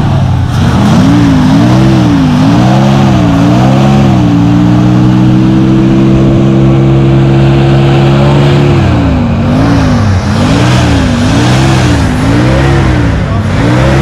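A 1984 Ford F-150 truck engine revs loudly and repeatedly, rising and falling in pitch, then holds a steady high idle before revving again; a low rumbling motor, close by.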